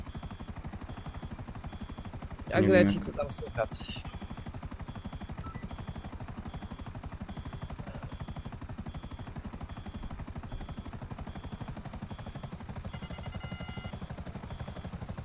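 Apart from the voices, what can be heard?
helicopter flying in video game GTA 5 Online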